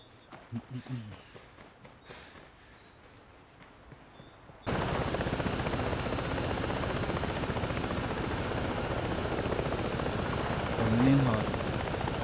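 A helicopter in the tactical shooter Ghost Recon Breakpoint. A few seconds of talk and game sounds, then a sudden loud, steady rotor roar cuts in and drones on continuously to the end.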